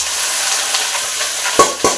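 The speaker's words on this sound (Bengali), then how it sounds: "ভিন্ডিভাজা বসিয়ে দিয়েছি," Okra frying in a pan on a home stove, a steady close sizzle with a couple of sharp clinks of utensils near the end, no voices.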